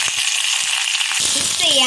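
Dried red chillies and curry leaves fry in hot oil, giving a loud, continuous hiss of sizzling close by. A faint rattle of stirring joins in toward the end.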